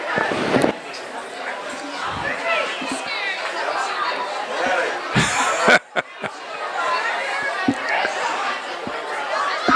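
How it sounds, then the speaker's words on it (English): A big football stadium crowd chatters restlessly during a long stretch of timeouts, a steady dense murmur of many voices with scattered laughs and a few sharp pops and claps, distant and continuous. "So the crowd's getting a little restless here as we've had about 6 minutes of timeouts"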